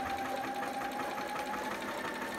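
A sewing machine back stitches along a romper seam, running in a quiet, rapid, even mechanical patter with a steady hum and no pauses.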